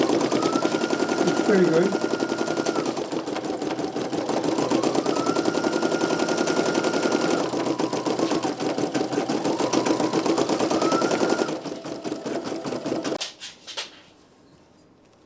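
Brother PE900 and NQ1700E embroidery machines stitching together in a rapid, steady mechanical chatter with periodic whirring shifts. The stitching stops abruptly near the end, and a voice speaks briefly.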